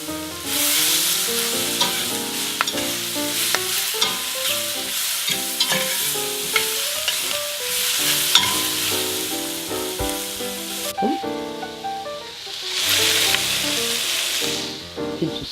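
Bok choy stir-frying in a pan sizzles steadily and loudly, with clattering spatula scrapes and stirring knocks throughout and a brief surge of hiss near the end; no talk.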